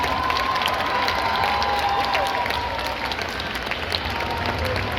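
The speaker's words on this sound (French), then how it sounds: "je vous demande un tonnerre d'applaudissements pour les comédiens" Audience applause for the actors at the Japan Touch convention in Lyon, a dense, steady wash of clapping from a large crowd with a few cheers mixed in, holding at full strength for the whole stretch.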